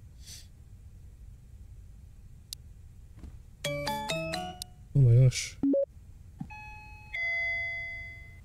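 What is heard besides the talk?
doorbell ringing in video game Parasocial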